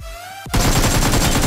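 Sudden loud burst of rapid gunfire in PUBG Mobile, a quick string of close, repeated shots starting after a brief quiet moment and continuing to the end.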